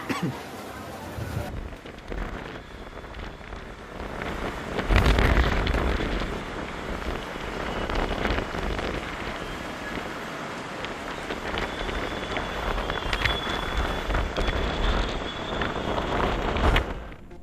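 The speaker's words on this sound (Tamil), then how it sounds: "தலைநகர் டெல்லியில் புழுதியுடன் சூறாவளி காற்று வீசியதால்" Strong dust-laden storm wind gusting through Delhi, a broad roaring rush that surges loudly around the fifth second and keeps buffeting steadily, with rain-like noise and microphone wind rumble throughout.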